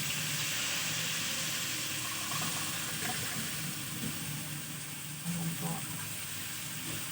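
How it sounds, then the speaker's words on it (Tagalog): Water pours steadily into a pot for cooking pancit bato noodles, a continuous gushing, splashing sound, moderately quiet, with faint kitchen noise underneath. "Dadagdag po tayo ng yan po, tubig."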